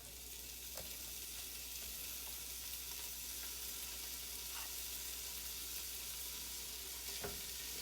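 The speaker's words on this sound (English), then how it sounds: "we're gonna add our bacon to crisp up" Bacon crisping in a soup pot, a faint continuous sizzle and crackle with occasional small pops, steady and low throughout without any talk.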